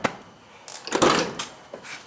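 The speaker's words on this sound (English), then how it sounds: "We have a door that opens and closes the way it's supposed to now." A Dodge D100 pickup truck door, just repaired after drooping, swings and latches shut with a single solid clunk, surrounded by faint handling clicks and rustle at close range.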